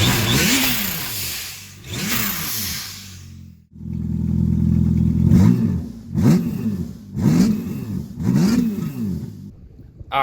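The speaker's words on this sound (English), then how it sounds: "All right, got it idling, warmed up the new exhaust." A Yamaha GP1800R jet ski fitted with a new free-flow exhaust revs repeatedly, with several sharp throttle blips swelling and falling over an idling engine, loud and close.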